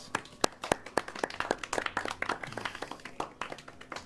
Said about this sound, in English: the audience erupts in applause